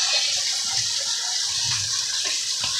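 Kitchen tap water runs steadily while a fork is washed, a close, continuous hiss and splash with faint knocks of the utensil underneath.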